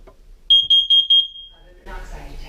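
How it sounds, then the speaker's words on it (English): A SimpliSafe home smoke detector shrills in four rapid, piercing beeps during a test, loud and near, followed by a person starting to speak. "Right here we have our smoke detector, and right here, and there's a test button right there."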